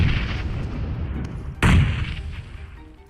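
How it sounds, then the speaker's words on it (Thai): Gunfire in PUBG Mobile from an enemy up on a hill, a steady rumble of distant shots broken by one loud, booming report midway that fades into a lingering tail. "บนเขามีคนยิงมาอีก"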